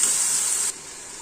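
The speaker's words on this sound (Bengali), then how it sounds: "মশলাটা ভালো করে আমি কষিয়ে নেব।" Spice paste of ground mustard, garlic and chili fries in a pan for a vegetable chorchori, giving a bright, close sizzling hiss that cuts to a softer simmer partway through.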